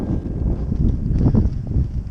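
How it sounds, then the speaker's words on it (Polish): Cold wind gusts across an open field near a forest in the Kraków-Częstochowa Jura, a steady low rumbling roar buffeting the microphone throughout, with no talk. "Trochę zimno na tym polu, ale zaraz wejdziemy w las i ten wiatr się uspokoi."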